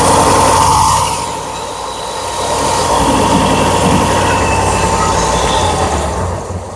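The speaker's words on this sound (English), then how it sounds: "let's come over to the sander and we'll do a little bit of sanding" A loud, steady power sander whines and roars continuously while sanding a small piece, its pitch dipping and rising slightly as it works against it, with no voices.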